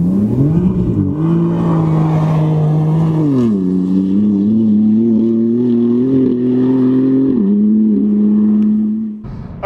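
A BMW F80 M3 on the road, its engine droning steadily with audible gear changes as the pitch steps up and settles, close and loud from inside the car with no talk.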